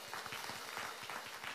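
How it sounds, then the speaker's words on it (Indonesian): A church congregation at a Sunday service applauds for a brief moment, a steady even wash of clapping from a crowd heard at a moderate distance with no voices over it. "Kita beri tepuk tangan dong ya."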